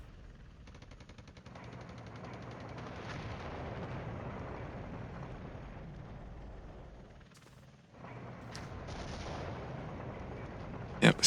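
Artillery fire in the Cold War strategy game Flashpoint Campaigns, a sustained rumbling barrage of booms and crackling blasts rolling on continuously, briefly easing before resuming, with sharp clicks at the end and no speech.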